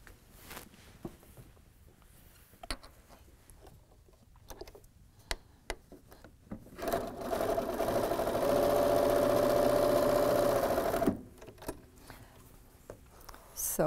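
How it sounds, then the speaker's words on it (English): A sewing machine stitches a seam on solid fabric, a faint click and tick of handling giving way to a steady mechanical whir lasting a few seconds before stopping, with quiet handling sounds around it. "Sew the seam."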